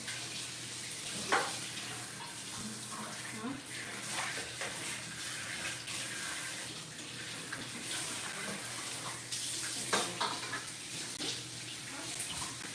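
A juicer is rinsed under a running kitchen tap, a continuous hiss of flowing water with occasional splashes and clunks as the parts are handled, heard faintly alongside someone talking.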